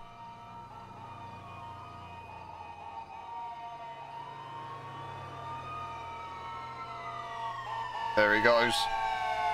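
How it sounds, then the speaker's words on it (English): An Engine 81 fire engine answers a call near a burning building, its siren wailing as it draws closer, with a loud burst of air horn blasts near the end. Someone speaks briefly over the siren. "whenever G's responding, it's always laying on the bloody horn"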